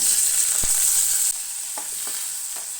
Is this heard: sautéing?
yes